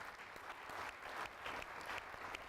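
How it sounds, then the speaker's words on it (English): Applause for panel guests being introduced at a marketing industry summit, steady clapping from a seated audience filling the room throughout without speech. "Give these guys a round of applause."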